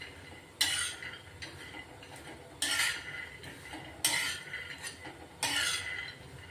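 Peanuts dry roasting in a pan over low heat, with a utensil scraping and stirring in repeated loud strokes against the metal and a quieter rattle between them, and no talking.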